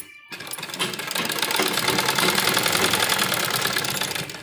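Sewing machine running steadily while stitching a double seam on a baby frock, a dense, continuous rapid whirring and clatter that starts after a brief silence and holds close and loud throughout.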